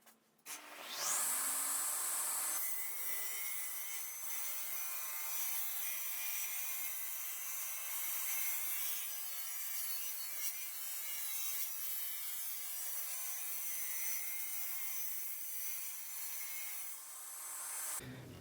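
A table saw rips a slightly bowed wooden board lengthwise, spinning up quickly to a loud, steady high whine that holds for around seventeen seconds before winding down.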